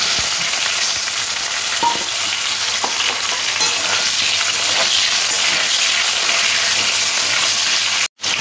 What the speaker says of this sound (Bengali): এই মাছ ভাজার তেলের মধ্যে আলুগুলো দিয়ে দেবো।